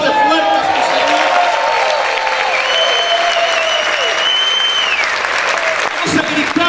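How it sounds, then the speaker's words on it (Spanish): A church congregation applauds and shouts in praise, loud dense clapping mixed with cheering and raised voices, while a musical tone and sung or spoken voices ride over the top throughout before the noise briefly dips near the end. "grita y aplaude fuerte a su Señor"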